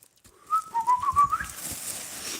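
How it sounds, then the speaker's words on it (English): A person gives a short, close, warbling whistle to call cats, a few rising and falling notes lasting about a second in a quiet room. "I will whistle on occasion to these kitties."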